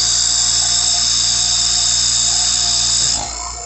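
A JB Platinum vacuum pump, running again after being repaired, gives a loud, steady high-pitched whine with a constant motor hum underneath. It holds evenly, then drops in level near the end.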